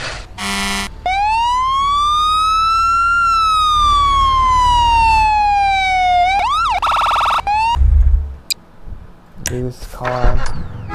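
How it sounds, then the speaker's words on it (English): A fire truck siren in the Garry's Mod video game, one long loud wail that rises, holds and falls over several seconds, then a short sharp yelp, with brief horn-like blasts and speech around it. "fire truck"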